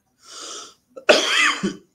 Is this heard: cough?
yes